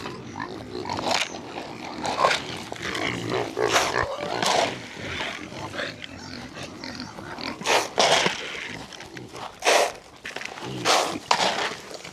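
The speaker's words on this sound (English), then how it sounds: "These pigs are working in the woods for us right now" Pigs rotated through a woodland pasture on a livestock farm give loud, close grunts and squeals in irregular bursts, with rustling and footsteps over the ground between calls.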